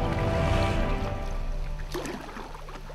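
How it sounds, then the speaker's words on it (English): Canoe paddling on a backcountry camping trip: close, steady water churn and splashing from paddle strokes, with a brief rushing swish near the end. "Reload everything, and then begin paddling again."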